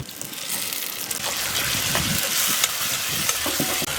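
Ground tomato paste hits hot oil with sautéing onion and garlic for a South Indian garlic-pepper kuzhambu, giving a steady close sizzle and frying hiss with occasional stirring scrapes throughout.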